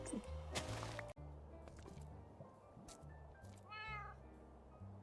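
A Minecraft cat meows several times in quick succession, close and clear, with small squishy game sounds around it and a low steady hum beneath.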